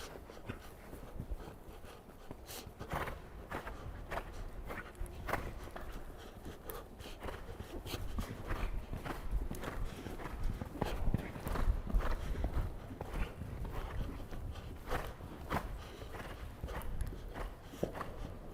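A horse canters in a riding lesson, its hoofbeats thudding in a steady repeating three-beat rhythm, close and fairly loud, with occasional snorts and breaths and a few brief words from a trainer.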